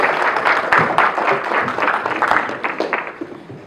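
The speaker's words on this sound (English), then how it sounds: "give her a big round of applause" Lecture audience applauding a guest speaker as she is introduced, dense steady clapping from a crowd for nearly four seconds, fading slightly at the end.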